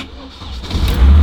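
A BMW 2002tii's engine cranks and catches in freezing cold, the low rumble swelling louder toward the end as it fires up and idles close by.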